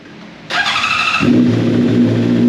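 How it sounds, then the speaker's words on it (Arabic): A motorcycle engine, started to run for 10 to 30 minutes while its radiator is being flushed with cleaner, sounds as a loud steady idle that deepens into a strong low drone, heard close and alone. "هتشغل الموتوسيكل من 10 دقائق ل 30 دقيقه"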